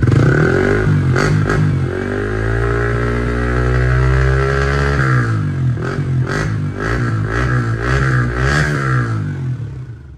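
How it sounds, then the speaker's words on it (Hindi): A Yamaha R15 motorcycle with a dB killer fitted in the exhaust revs up close, holding a loud, droning pitch that falls back, then rises again through several sharp, quick blips before easing off. "चलो डीबी कलर के साथ आपको सुना देते हैं अपनी बाइक का R15 का कैसा है"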